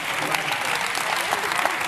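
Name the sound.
audience clapping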